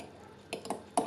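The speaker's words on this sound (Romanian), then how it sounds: "Batem puțin ouăle cu furculița." A fork clicks against a bowl while whisking eggs, a few quick scraping taps close by, no voice over it.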